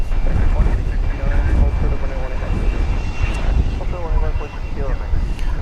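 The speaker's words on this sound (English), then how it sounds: "This will be a MAX 8 coming in next here on Runway DFW." An American Airlines Boeing 737 MAX 8 arrives at DFW airport, its jet engines making a loud, steady roar with a broad rumble close by. Wind adds to it and a voice talks faintly underneath.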